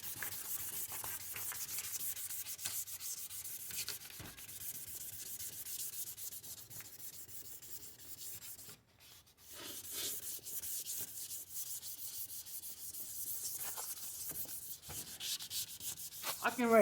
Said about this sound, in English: The only reason I like sanding with my hand is because of the shapes.